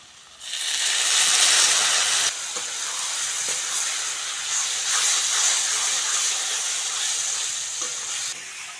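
Spice paste of garlic, ginger, cumin, chili and turmeric hits hot oil for a bata fish curry, bursting into a loud sizzle that settles into a steady hiss of frying and stirring, with no talk.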